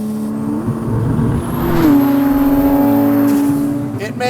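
A Porsche Cayman GTS fitted with a swapped 991.2 Turbo S engine revs up from a steady idle hum to a loud, rising engine roar, holds briefly, then settles back down.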